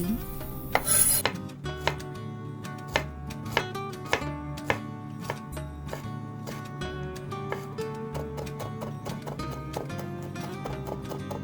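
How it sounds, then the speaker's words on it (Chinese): Garlic crushed and minced on a board with a knife, a run of sharp, evenly spaced chopping knocks, close and fairly loud, over a low steady background hum. "先把大蒜压扁，然后把它改刀切成蒜蓉。"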